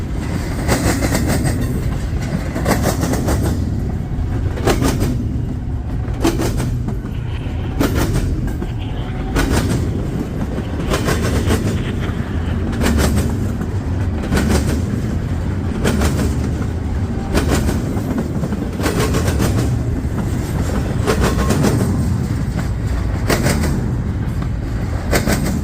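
A northbound CSX train rolls past close by, a loud, steady rumble of railcars with rhythmic clickety-clack from the wheels running through the whole stretch.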